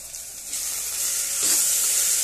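Cumin and mustard seeds fry in hot oil with turmeric, a continuous close sizzling hiss that swells slightly as the spice is stirred in.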